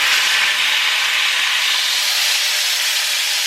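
Pot roast meat sears in a hot pan, giving a loud, steady, close sizzling hiss that holds evenly throughout with no talk.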